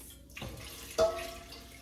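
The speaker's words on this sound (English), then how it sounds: "we'll just pour it in my rice cooker" Water being poured into a rice cooker while making kitchari, a brief close splash and trickle that rises suddenly near the end and then fades.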